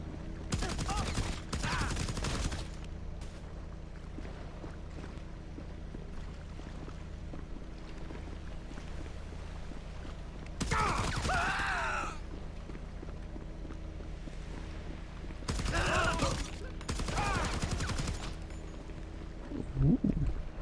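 Suppressed gunfire in GTA on a super yacht comes in several short bursts of muffled shots spread across the stretch, over steady engine-like background drone.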